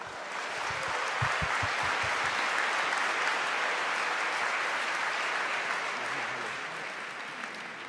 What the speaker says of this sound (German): Bitte einen riesengroßen Applaus für unseren Bundesfinanzminister Christian Lindner und den Gründer der Republika Andreas Gebhardt.